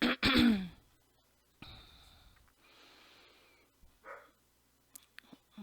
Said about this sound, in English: oh, there goes my dog.